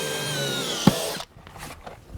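A power drill whirs steadily as it drives a fastener into Trex composite decking, with a sharp knock near the end before the motor cuts off, leaving faint handling noises.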